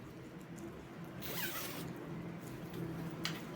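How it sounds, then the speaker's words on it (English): A clothing zipper is pulled closed in a single short, quiet stroke midway through, with faint room hiss before and after. "right now we've closed the zipper"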